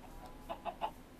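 Video-game chickens in a modded Minecraft world give three faint, short clucks in a quick, even series over a quiet background.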